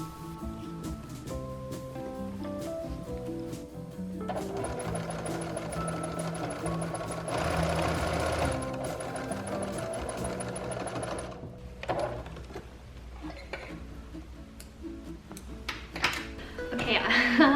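A sewing machine runs in one sustained burst, stitching a gathered fabric ruffle onto the bottom of a thrifted button-down shirt, heard close over background music.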